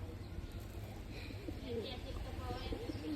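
Soft, low pigeon coos come and go amid outdoor ambience, with people talking quietly nearby.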